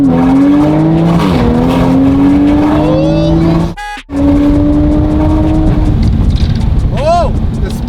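A 2020 Toyota Supra with a new exhaust revs loudly and accelerates with rising exhaust tones, briefly cutting out mid-clip before roaring again, a short squeal near the end.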